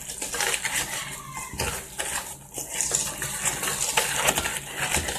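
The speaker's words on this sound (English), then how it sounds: "I'm going to just mix this real good with my whisk." A whisk clatters steadily against a bowl while mixing sweet potato cheesecake batter, with quick scraping, rattling strokes close by and no talking.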